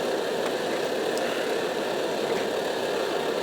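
An MSR Dragonfly liquid-fuel camping stove burns with a steady, loud, close roar that holds unchanged throughout, with no voices.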